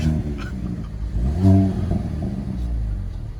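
A nearby Hyundai Veloster N engine rumbles at idle, then revs up sharply once and settles back to a steady throb.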